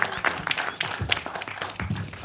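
A crowd applauds Arshad Warsi at the Irada movie trailer launch event, a dense burst of clapping from many hands, loud and close, lasting a couple of seconds.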